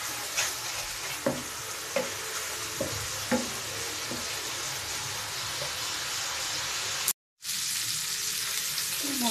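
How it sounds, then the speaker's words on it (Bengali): Spice masala with ginger and garlic paste, and salt, sautéing in a pan: a steady sizzle with regular spoon scrapes and taps, close and moderately loud, cutting out briefly near the end, with no speech. "এবার ভালো মতো কষিয়ে নিচ্ছি।"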